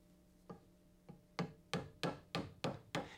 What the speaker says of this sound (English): Tap the waste piece firmly with your hammer.